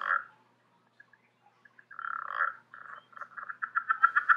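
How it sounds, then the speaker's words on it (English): Southern Leopard Frog calling alone at close range: a short burst, then scattered clicks, building into a rapid series of stretched, rubbery croaks that grow louder and quicker toward the end. "The Southern Leopard Frog almost sounds like a balloon being stretched with your hands."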